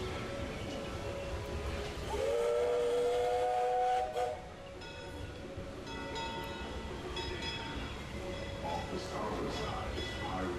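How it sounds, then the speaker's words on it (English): A steam train on the Disneyland Railroad gives a short two-toned whistle blast at a distance, set against rolling train noise and background chatter. "with the sight of that train at the Disneyland Railroad"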